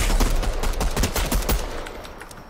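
Rapid gunshots crack in a video game, a quick string of close, loud reports over about two seconds, fading slightly toward the end.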